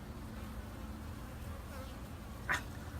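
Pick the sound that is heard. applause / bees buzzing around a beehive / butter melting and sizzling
bees buzzing around a beehive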